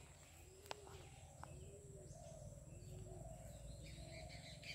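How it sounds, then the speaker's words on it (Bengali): Small birds chirp and twitter faintly in the distance, with a few brief high calls over steady low background hum and soft repeated cooing tones. "ওইদিকে গাছগুলোতে কিচির মিচির করে ডাকছে"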